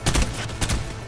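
Gunfire in the Fortnite video game: two quick, loud, sharp bursts of shots close together within about a second.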